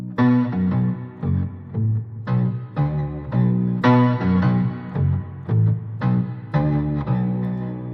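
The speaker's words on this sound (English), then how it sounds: "remove the dry signal from the Octaver and play only through the Octaver" Electric guitar played through an octaver pedal set to full sub-octave with no dry signal, giving deep, bass-like plucked notes in a steady melodic line, close and clear, alone without talk.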